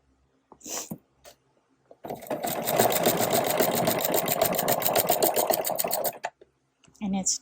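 A sewing machine zigzag-stitches a denim tote bag made from old jeans, running in a steady rapid rattle for about four seconds between brief starts and stops, with speech tagged and no clear words.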